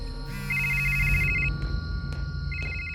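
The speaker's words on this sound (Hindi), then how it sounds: "फोन की घंटी बजती है।" A telephone rings at night in a Hindi horror cartoon, with two bursts of bright electronic trilling separated by a short gap over a low background hum.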